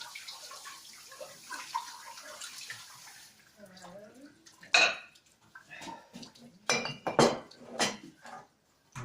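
Dishes being rinsed during washing up: running water splashes, then plates and cutlery clink and clatter in irregular bursts, close by, with a voice talking partway through.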